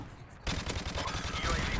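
Rapid automatic gunfire rattles in Call of Duty: Modern Warfare Remastered, a dense, loud burst of shots that starts abruptly and keeps going, with faint talk underneath.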